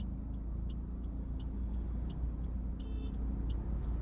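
A car engages gear and pulls uphill with a steady, low engine rumble, while faint, brief ticking clicks sound over it.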